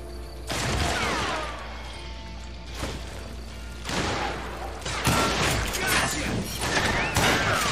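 Rapid gunfire and crashing impacts from Call of Juarez Gunslinger, a Western shooter video game, with dense overlapping shots and blasts throughout, loud and continuous with brief dips between volleys.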